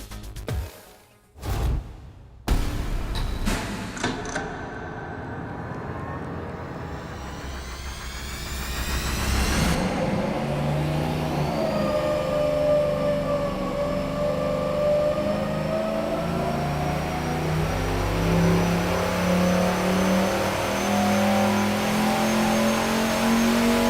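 A turbocharged engine on a dyno starts with a few cranking bursts, then revs in a long rising pull, its tone climbing and holding loud and steady, with no talk.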